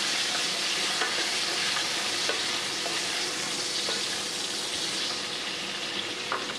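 Thinly sliced potatoes fry in hot oil in a pan at the start of a tangra fish curry, giving a steady, close, continuous sizzle with faint occasional stirring clicks and no talk.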